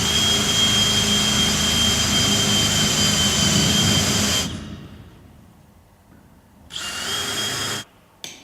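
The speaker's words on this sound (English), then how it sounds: "The mounting drill holes at the top and the front are then drilled." A power drill bores mounting holes in a door sill with a loud, high-pitched whine for about four seconds, spins down, then runs again in a shorter burst.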